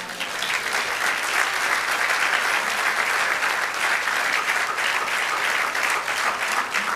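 A church congregation breaks into loud, sustained applause, a dense and steady wash of many hands clapping together that continues without a break for about seven seconds, close and full.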